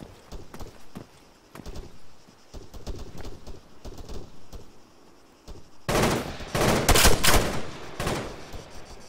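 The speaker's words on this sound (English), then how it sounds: "We're gonna open fire" Video game gunfire in ArmA 3, with scattered rapid shots at first and then a dense, loud burst of sustained automatic fire over the last few seconds.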